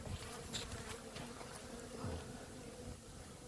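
Honeybees in an overwintering hive, opened in mid-January for mite treatment, hum in a dense, steady buzz close by, with faint handling noises over the drone.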